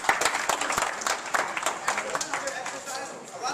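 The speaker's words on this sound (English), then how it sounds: "Give yourselves a big round of applause" A small group claps together, a scattered and irregular patter of hand claps at moderate volume that slowly thins out, with voices mixed in at the same time.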